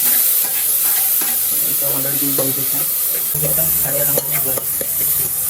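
Cumin seeds sizzle in hot oil with a steady, close, crackling hiss that carries on throughout, while stirring clinks sound faintly underneath.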